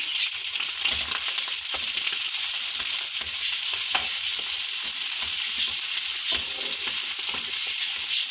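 Meat sautés in a pan with onion, green pepper, red pepper flakes and black pepper for a kebab filling, giving a loud, steady sizzle with occasional stirring clicks and no talking.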